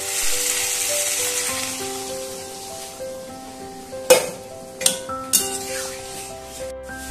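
Hot water is poured into fried masala in a pan for a soybean kofta curry, and sharp hissing sizzle bursts rise repeatedly over steady background music.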